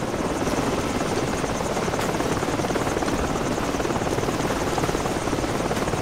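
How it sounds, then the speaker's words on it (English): A helicopter from a Call of Duty game flies in, its rotor chopping in a fast, steady rhythm over a loud, dense engine roar that stays close and constant throughout, with no voices. "Heads up! Chopper's inbound!"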